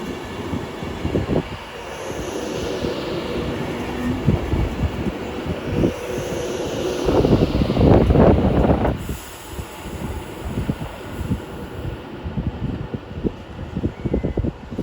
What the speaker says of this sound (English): As off goes the 11:30 London Overground service to London Euston